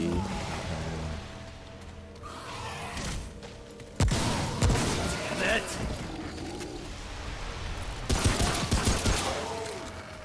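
Rapid SMG gunfire from the video game Remnant crackles in bursts, with loud sharp volleys and thuds among game effects, continuing through most of the stretch at moderate loudness.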